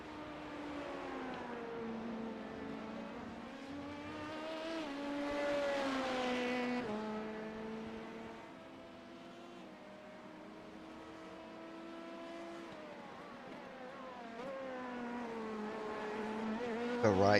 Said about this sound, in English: Cars on pit road once again here